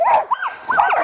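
Sled dogs hitched up before a run give loud, close, high-pitched eager yelps and whining barks that rise and fall in quick bursts over about a second.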